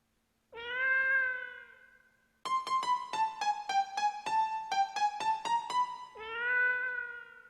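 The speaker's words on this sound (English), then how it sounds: "And it gives me the honky-tonk piano and the cat." Synthesized cat meows on an Estey electronic keyboard set up to play Alley Cat: a long meow, then a quick run of bright honky-tonk piano notes, then a second meow, close and clear with no voices.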